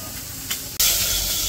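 Fish frying in hot oil in a simple village kitchen gives a continuous close hiss and sizzle that briefly dips, then surges louder and keeps going.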